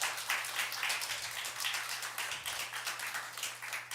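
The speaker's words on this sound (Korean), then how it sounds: "잠시 일어나 주시면 박수로 환영해 주시길 바라겠습니다" Church congregation in a Korean Sunday worship service claps in welcome of a visiting guest: steady, fairly soft applause with a low hum beneath it.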